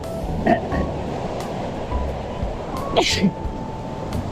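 River waves wash and lap steadily against a bank, eating away the soil, with a dull rumble of moving water and faint voices in the background.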